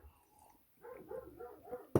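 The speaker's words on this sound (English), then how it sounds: "Sorry about the dog." A pet dog in a home barks a few times at moderate distance, short gruff yips and whimper-like bursts in a loose rhythm, ending in one louder bark.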